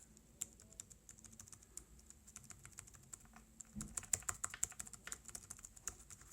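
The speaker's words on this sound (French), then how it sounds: "Ça peut donc faire office d'un clavier d'appoint pour taper du texte." Fingers type on a Sony BKB10 Bluetooth keyboard, a close run of quiet, quick key clicks that turns denser and slightly louder partway through, with no talking.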